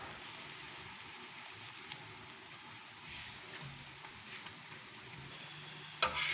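Methi pooda batter fries quietly in a pan, giving a faint, steady sizzle with small ticks and pops throughout and a brief clatter near the end.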